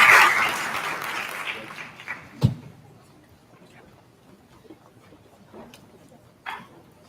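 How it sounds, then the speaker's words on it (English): Graduation audience applauding award winners: a burst of clapping at the start that fades out within a few seconds, followed by near-silence with a few scattered thumps and faint noises. "Let's give a round of applause to all the award winners."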